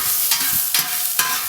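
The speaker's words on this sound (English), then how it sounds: "Toss those in. Go ahead and just kind of stir those around a little bit." Peppers and onions sizzle on a Kettle Q grill for Philly cheesesteaks, a steady frying hiss broken by three scraping strokes as they are stirred around.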